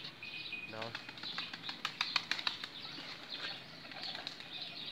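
A pigeon's wings flap in a quick burst of dry, fluttering claps near the middle, with light bird chirps and background noise around it.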